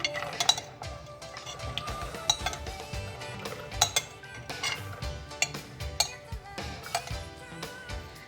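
Pomegranate seeds being tipped into a jug for fresh juice, a scatter of light clinks and taps with sharper ticks every second or so, close and fairly quiet, no talking.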